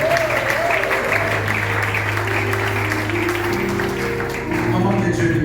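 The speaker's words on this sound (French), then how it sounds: "Est-ce qu'on peut acclamer?" A church congregation claps loudly and continuously, with sustained instrumental tones and voices sounding beneath the applause.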